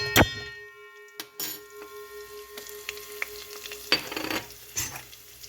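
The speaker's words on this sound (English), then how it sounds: "Fry them a little bit for a minute or so." Chilies and cumin seeds fry in sunflower oil for a Mumbai-style sabudana khichadi, giving a steady close sizzle broken by a few sharp clinks and stirring clatters of a utensil against the pan.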